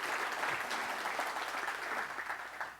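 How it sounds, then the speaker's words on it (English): A keynote audience claps together, producing a broad, continuous wash of many hands that holds steady and begins to thin slightly toward the end. "Y'all can clap."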